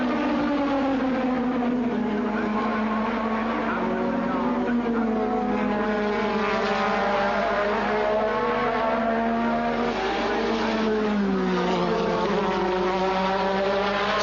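Formula One cars race at the 1986 British Grand Prix, their high, buzzing engine whine rising and falling through gear changes. The sound is continuous and slightly distant, recorded in thin broadcast quality.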